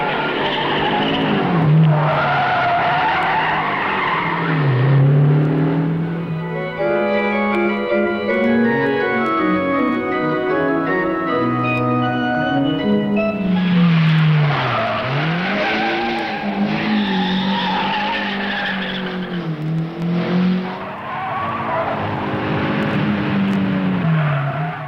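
A Renault 8 Gordini rally car from 1966 slides through corners with tires squealing and its engine revving hard, rising and falling in pitch as it accelerates out of each bend, loud and close throughout.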